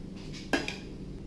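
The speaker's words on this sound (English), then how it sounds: "Now to this potatoes, I'm going to spoon out some of the sauce" A spoon clinks against a dish as sauce is scooped out onto potatoes, giving one sharp metallic tap followed by a fainter second tap, close by with no talk.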